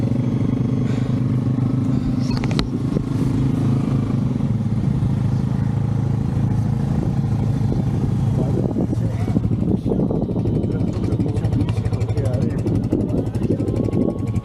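Motorcycle and car engines idle and rev nearby in a continuous rumble as bikers prepare to depart in the rain in Dirkot, Azad Kashmir, with people talking over the noise.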